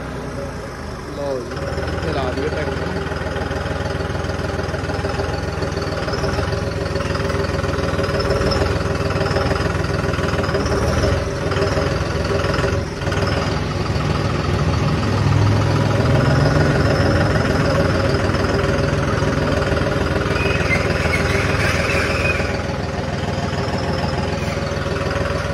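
A tractor engine idles and chugs steadily for the whole stretch, a loud low rumble with rhythmic vibration, while someone talks over it.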